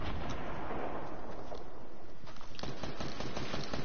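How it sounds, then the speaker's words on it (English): Distant gunfire in a shooter video game: dense, continuous rumbling volleys and blasts, with sharper close shots cracking through in the last second and a half. "they're shooting from far"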